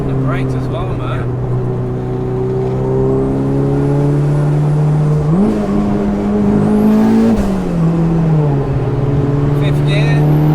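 A turbocharged 694 bhp Mitsubishi Evo V engine pulls hard and revs up through the gears into fifth, pitch climbing and dropping with each shift, with a wastegate flutter, while people talk over it.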